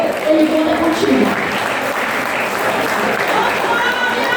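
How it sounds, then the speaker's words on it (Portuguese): A church congregation applauds during a missionary sermon, a thick continuous wash of clapping with a voice and some tonal sound briefly rising through it near the start. "Dá um aplauso para Ele."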